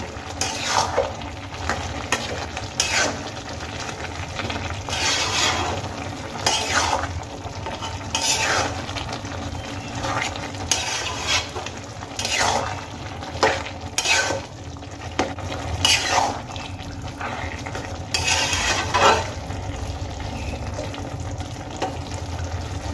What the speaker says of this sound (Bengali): এবার সমস্ত গুঁড়ো মশলা আমি সবজির সঙ্গে মিশিয়ে নেব।